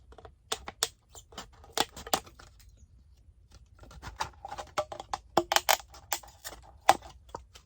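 Sharp, crisp snips and crunches of scissors cutting through a thin plastic cup, irregular clusters of clicks close up, with quiet pauses between cuts.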